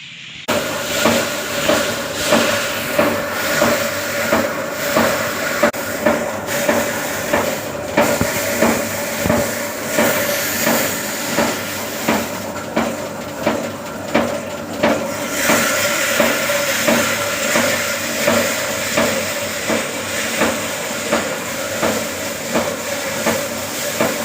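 A paddy threshing machine threshes rice continuously with a rhythmic mechanical thumping and hiss, loud and close, no one speaking.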